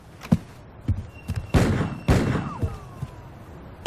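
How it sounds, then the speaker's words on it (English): Several sharp gunshot-like bangs and thuds from a neighbor firing through the ceiling in an apartment building at night, scattered irregularly and fairly close, with a brief whistling tone among them. "Our neighbor shot bullets through our ceiling."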